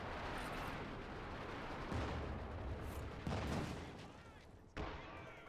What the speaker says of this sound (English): Pack Howitzers barraging probably in the center, and I hear other fighting happening